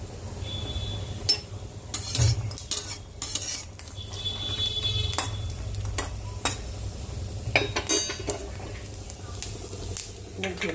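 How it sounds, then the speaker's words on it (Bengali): Almonds fry lightly in a pan for carrot halwa, with a soft sizzle underneath and frequent clinks and scrapes of a utensil against the pan, steady and close. "একটু হালকা লাল করে নিলাম বাদামটা।"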